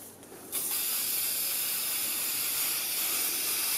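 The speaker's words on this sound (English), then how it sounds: "Andrew, can I borrow that bug spray for a second?" A steady aerosol bug spray hisses continuously for several seconds after a brief quiet start, close and loud.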